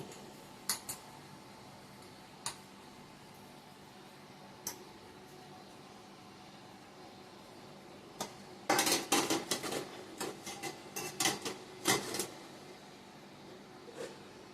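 Metal idli steamer plates clink and clatter in a kitchen: a few sparse light taps early on, then a dense run of sharp metallic knocks and scrapes as the plates are handled, near and fairly crisp.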